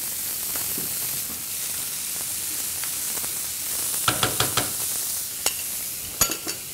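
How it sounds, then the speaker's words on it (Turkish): Butter sizzles in a hot pan around seared, caramelized beef tenderloin on low heat, a steady close frying hiss with several sharp pops and spatters, no talk. "Şimdi tereyağı ekleyeceğim bolca."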